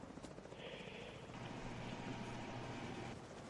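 Helicopter in the Division 2 video game, a steady loud rotor drone that holds throughout under gunfire-like game noise.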